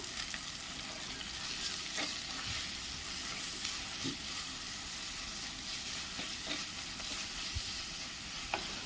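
Green chillies and a sprig of curry leaves sauté in oil for a coconut milk crab curry, an even, close sizzle with occasional soft spatula taps and scrapes, no voices.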